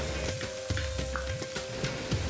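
Sliced onions and green chilies stirred through hot mustard oil for a dry fish dish, giving a steady close sizzle with repeated scraping stir strokes and no talk.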